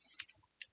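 Three or four light plastic key clicks on a computer keyboard, quick and close, separated by short gaps of near silence in a quiet room.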